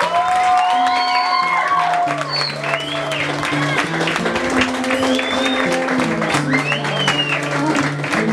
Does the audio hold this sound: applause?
yes